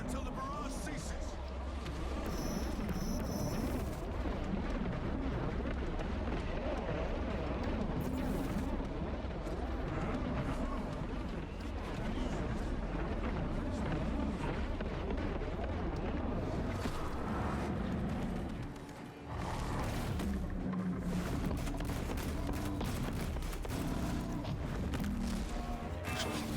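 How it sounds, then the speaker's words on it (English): A Warhammer 40k Chaos operation video game artillery barrage: a dense, continuous roar of booming explosions and gunfire that stays loud and close for most of the stretch, dips briefly near the end, then resumes, with voices talking underneath. "Stay in cover until the barrage ceases."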